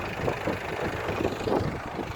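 A KATA 504 tractor engine runs steadily in a field while pulling a heavy 6-metre roller over freshly sown soybean ground, a continuous mid-pitched drone with faint knocking texture and no voices.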